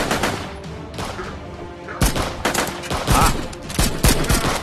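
Rapid volleys of gunfire in the video game Cactus Cowboy: Desert Warfare, loud overlapping shots and bursts in quick succession, with a brief vocal exclamation.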